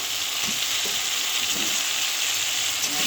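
Fish hisses and sizzles steadily as it lands in a hot pan of masala, with a dense continuous frying crackle and a few soft stirring knocks close by.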